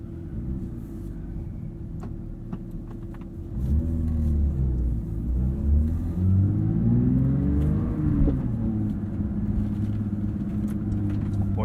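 A Porsche 911 GT3 with a manual gearbox cruises with a low engine rumble, then revs harder as it accelerates. Rising and falling harmonic sweeps carry on steadily to the end at a close, moderate level.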